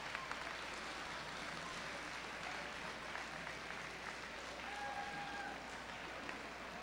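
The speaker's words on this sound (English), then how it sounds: "we owe them all a huge round of applause for all the time they put in this year" Audience at a FIRST robotics off-season regional competition applauding in a large venue, a faint, distant, steady wash of clapping without talk over it.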